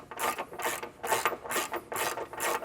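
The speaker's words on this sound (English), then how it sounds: "I'm going to use my wrench and a 19mm socket, and we'll just run this back up and then right back out." A ratchet wrench with a 19mm socket runs a bolt while a Curt trailer hitch receiver goes onto a 2022 Hyundai Santa Fe: five or six even, rhythmic rasping ratchet strokes, close and clear.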